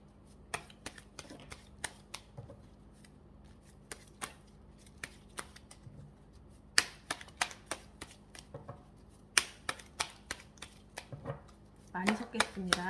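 Symbolon cards shuffled for a chakra tarot reading: steady, close flicking and riffling snaps that grow busier and denser toward the end, under quiet talk.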